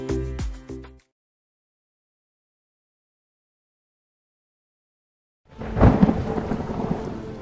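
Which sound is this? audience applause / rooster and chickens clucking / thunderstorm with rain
thunderstorm with rain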